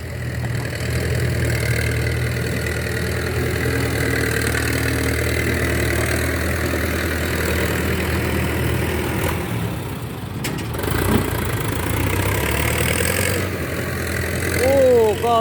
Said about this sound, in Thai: เสียงรถฟอร์ดน่าจะรบกวนหนึ่งเนาะ